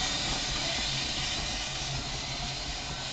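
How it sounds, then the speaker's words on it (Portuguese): A train moves back along its track, giving a steady, close broadband hiss and rumble that holds at an even loudness throughout. "Esse é o trem voltando para as..."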